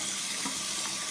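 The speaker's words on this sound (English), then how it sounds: "And to cool it down, I'm just going to put some cold water on it." Cold water splashes and pours onto a hot RC car tire being replaced on its rim, a steady close hiss of running water with a faint sizzle.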